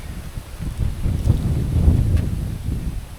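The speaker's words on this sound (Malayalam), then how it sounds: "നല്ല കാറ്റ്." Strong wind buffets the microphone at a hilltop viewpoint near Kanyakumari, a loud, low, gusting rumble that swells and eases over a few seconds.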